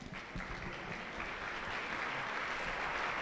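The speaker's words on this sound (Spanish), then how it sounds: "Ese aplauso, esa ovación" An audience claps steadily after a conference talk on notarial law, a soft, diffuse wash of many hands heard from a distance, continuing at an even level throughout.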